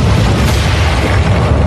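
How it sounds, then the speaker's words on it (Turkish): A loud gunpowder explosion, a dense sustained boom that fills the whole short stretch with heavy rumbling roar and no gaps. "bir barut patlaması binanın kalbini yerinden söktü"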